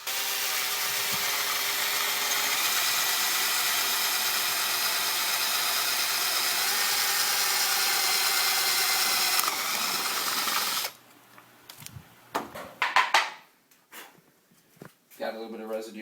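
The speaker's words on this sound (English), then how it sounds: "And now I'm going to take a 5/8 spade bit, put inside my trusty Makita here." A Makita power drill with a 5/8 spade bit bores steadily for about eleven seconds with a loud, continuous whirring grind, then stops, followed by scattered clicks and handling sounds.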